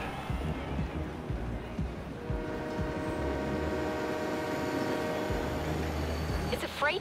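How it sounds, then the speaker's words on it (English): A freight train rolls past in Forza Horizon 3, a steady loud rumble with sustained horn-like tones holding through most of the stretch. "It's a freight train."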